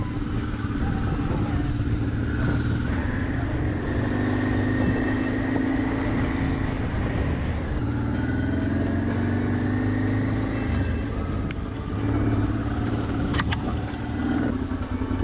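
Motorcycle ridden along the Trans Euro Trail in hot weather, its engine droning steadily and loud throughout with shifting pitch as it accelerates, mixed with wind rush close to the rider.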